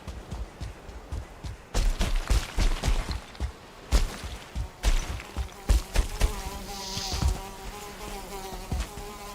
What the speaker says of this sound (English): The skeeters, man.